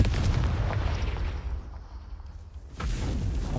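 A Confringo fire spell exploding in the Hogwarts Legacy video game, a heavy rumbling blast that fades over a couple of seconds before a second loud burst hits.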